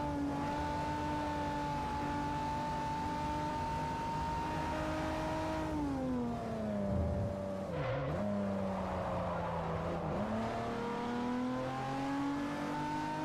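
Race car engines in the Forza Horizon racing game hold a steady droning whine, then dip and climb again as gears shift and the cars accelerate, continuous and fairly quiet with no talking.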